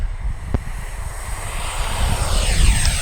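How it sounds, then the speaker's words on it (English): An RC F-15 Eagle with twin 64 mm electric ducted fans takes off into the wind with no flaps, giving a steady rushing roar with a thin high whine. The sound stays fairly even and a bit distant throughout. "She takes up about 3/4 of the whole runway in order to lift off with no flaps."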